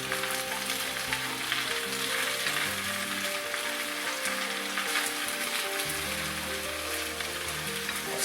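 Baby spinach wilting in a hot pan with garlic gives a steady, close sizzle and frying hiss that runs unbroken throughout, with a low tonal hum underneath and no talking.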